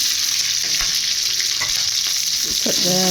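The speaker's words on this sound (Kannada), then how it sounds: "ಎರಡು ಚೆನ್ನಾಗಿ ಫ್ರೈ ಮಾಡ್ಕೊಬೇಕು ನಂತರ ಸಾಸಿವೆ ಕರಿಬೇವಿನ ಸೊಪ್ಪು ಹಾಕ್ಕೊತಾ ಇದ್ದೀನಿ" Chana dal, urad dal, mustard seeds, curry leaves and green chilies frying in hot oil in a pan for a carrot and beetroot palya, giving a steady loud sizzle with a few stirring scrapes, close and without talk.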